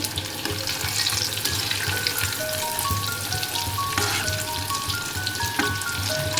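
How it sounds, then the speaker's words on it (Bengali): Eggplant sticks bubble and crackle steadily as they deep-fry in oil over medium-high heat, a dense, close sizzle with faint stirring clicks and no talk. "ভালো করে ডিপ ফ্রাই করে নিতে হবে"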